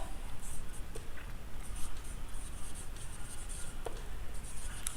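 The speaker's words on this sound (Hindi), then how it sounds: "इसको मैं लिख दे रहा हूँ" Chalk or marker writing on a board during an electrical engineering lecture on lap and wave armature winding, a quiet, steady scratching and tapping of strokes close by, with no talk over it.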